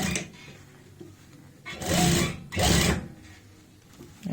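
A sewing machine sews elastic onto a pair of layered pants in two quick, close bursts of stitching separated by a brief pause, with quieter fabric handling before and after.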